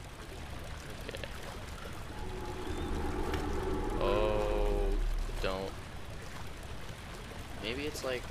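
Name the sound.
loose pipe leaking water in video game Amnesia: The Dark Descent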